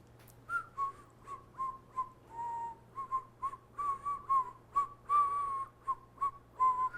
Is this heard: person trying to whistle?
yes